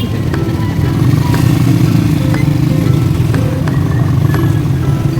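A habal-habal motorcycle taxi engine runs steadily and loudly up close in Iligan City, a constant low rumbling drone with faint rattles and clicks over it.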